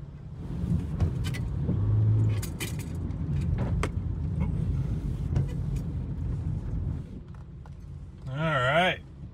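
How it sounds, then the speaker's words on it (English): A limousine's engine revs hard in a burnout attempt, a loud, steady rumble running nearly throughout, with a brief high, wavering squeal near the end. "Trying to do a burnout."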